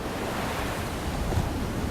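Sea waves washing onto the shore in a steady, continuous surf with some wind rush, loud and close, with no voices.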